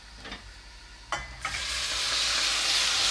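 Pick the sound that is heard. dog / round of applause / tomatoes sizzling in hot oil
tomatoes sizzling in hot oil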